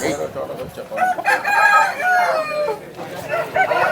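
Rooster crowing at a rooster market in Vijayawada, one long, loud, close crow rising and falling over busy market background noise and some talk.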